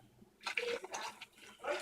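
Hot water poured into a glass baking pan, a short splashing pour of about an inch of water that starts after a brief quiet moment, with bursts and surges of liquid hitting the pan.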